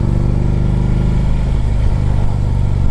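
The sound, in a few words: 2010 Harley-Davidson Ultra Limited motorcycle engine revving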